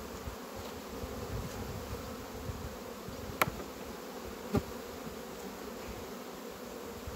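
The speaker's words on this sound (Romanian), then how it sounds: "O colonie micuță de albine." A small colony of honey bees buzzes steadily at close range, a dense continuous drone with no voices and a couple of brief sharp knocks partway through.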